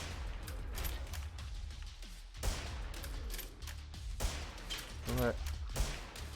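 Rifle gunfire crackles in quick bursts in the Rise of the Dead video game, set on a wrecked boat map, with sharp shots scattered under ongoing talk from players.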